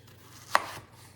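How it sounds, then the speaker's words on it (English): A knife chops an onion on a cutting board, one quiet, crisp chop that stands alone against near silence. "chopping up my onion"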